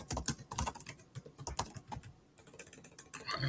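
Typing on a computer keyboard, close and fairly quiet: quick clusters of crisp key clicks with brief pauses between bursts, and no voices.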